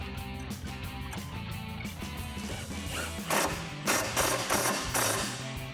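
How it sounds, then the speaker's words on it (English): Bolts on a tire carrier for a 2021-2024 Ford Bronco being tightened with a 16mm socket and 17mm wrench, giving quiet metallic ratcheting and clanks that build into several louder clattering hits toward the end. "I'm gonna grab a 16mm socket and a 17mm wrench and tighten all of these down"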